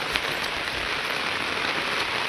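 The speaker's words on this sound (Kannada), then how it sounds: "ಮಳೆ ಮಳೆ." Steady rain falls during a rainy-season crab hunt, a dense even hiss of drops on surfaces with no pauses.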